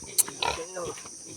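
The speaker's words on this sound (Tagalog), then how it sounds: "Inahing baboy." A sow gives a few short, soft grunts at close range, with a sharp click and some quiet background sound between them.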